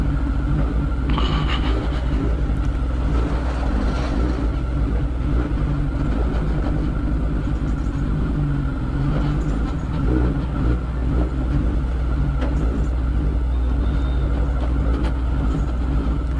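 A Kawasaki Ninja ZX10 sport motorcycle with a straight-through exhaust holds a loud, steady, rumbling drone throughout, close and unbroken, with no speech over it.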